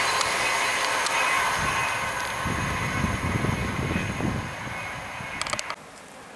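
A Virgin Trains service bound for Birmingham New Street passing through Cheddington, a loud sustained rushing roar with wheel rumble that swells, then cuts off sharply as the train clears, leaving quieter ambience.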